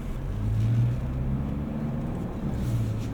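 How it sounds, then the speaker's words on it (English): A 2024 Toyota Land Cruiser with the i-Force Max hybrid powertrain cruising, giving a steady low engine hum and road rumble that stays near and constant throughout, with no talking. "The iForce Max hybrid powertrain is super smooth, very torquey, plenty of power here."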